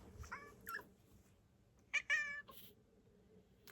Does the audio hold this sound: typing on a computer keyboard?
no